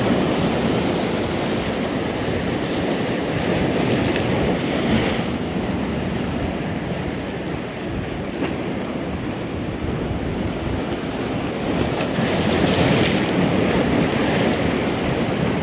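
Strong wind and heavy surf pound the sandy shore at Hopton on Sea beach, a steady, loud roar of breaking waves with gusting wind buffeting the microphone throughout, no voices.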